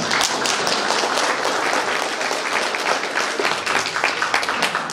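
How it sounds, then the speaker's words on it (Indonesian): An audience applauds at a national gathering, a dense, loud, sustained wash of many hands clapping together without a break. "Aplaus untuk kita semua."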